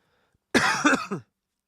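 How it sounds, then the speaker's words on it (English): A single short burst of coughing or throat clearing, close and fairly loud, with silence before and after. "If I start coughing, if I break down into a coughing fit on camera"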